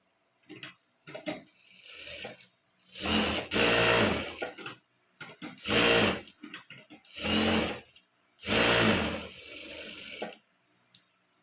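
A sewing machine stitches blouse pieces in five or six bursts of loud, close mechanical whirring, each lasting about a second, with short pauses and small clicks between runs and no talking.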